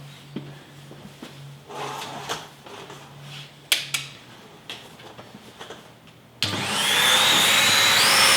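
Vacuum cleaner switches on partway through and runs loud and steady, cleaning a stripped Ercol furniture surface after scattered knocks and handling noises.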